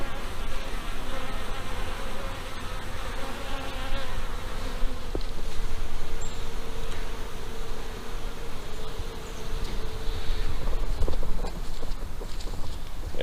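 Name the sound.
bees flying around beehives in a bee yard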